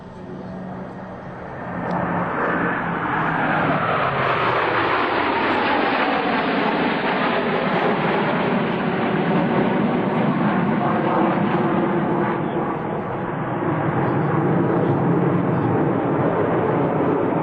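Five US Navy Blue Angels jets at the 2003 Vectren Dayton Airshow roar past in a line abreast loop, a loud sustained jet roar with a sweeping pitch change as they climb into the vertical.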